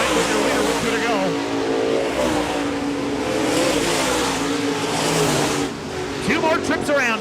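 Dirt-track race cars roar down the back straightaway at Park Jefferson Speedway in a USMTS race, loud sustained engine drone with rising revs near the end, under continuous announcer commentary.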